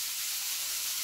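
Cleaning powder dissolving in water gives a steady, dense fizzing hiss, close and continuous with no pauses and no speech over it.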